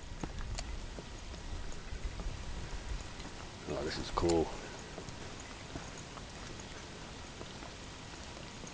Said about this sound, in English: Man, it's starting to rain.